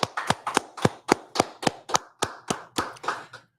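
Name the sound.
audience clapping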